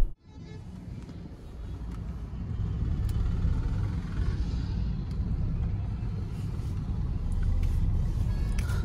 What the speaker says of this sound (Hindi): ट्रैफिक आपके सामने है, मेरी गाड़ी जो है वो इको मोड पे है और गाड़ी अभी सेकंड गियर में है मेरी।